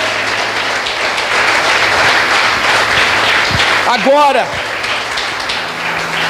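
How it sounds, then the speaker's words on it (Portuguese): A church congregation at a conference claps strongly in sustained applause, loud and dense throughout, with a voice calling out briefly over it. "Dá uma salva de palmas bem forte"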